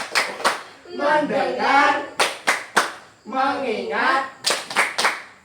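Short bursts of rhythmic group clapping in a classroom focus routine, three quick clap sets spaced across the moment, with a teacher and children chanting words in between the claps.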